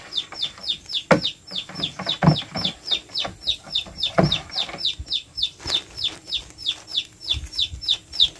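A chicken used as bait beside a bamboo-and-plastic snake trap dug into the ground makes steady, rapid high-pitched calls in a regular rhythm, close and clear, with a few soft thumps underneath.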